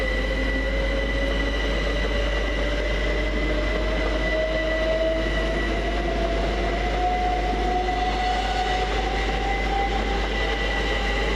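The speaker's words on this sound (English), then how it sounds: "Next out is 387142 and 387151, working the 1331 Great Western Railway service from Newbury to London Paddington." Two Great Western Railway class 387 electric units coupled together pull out of Reading station, a steady rising whine and rumble building across the whole span with no talk.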